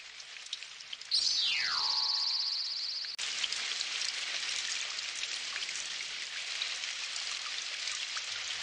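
Steady rain hisses continuously in a Doraemon cartoon episode in Hindi, with a brief descending whistle-like tone early on before the downpour carries on alone.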